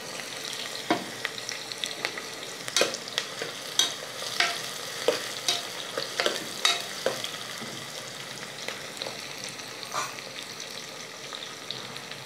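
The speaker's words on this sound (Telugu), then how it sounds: "ఉల్లిపాయలు వేగిపోయినాయి" Small onions and green chillies fry in a pan with a close, crackling sizzle. Repeated scraping strokes of a spatula rise and fall in an uneven rhythm over the bubbling oil.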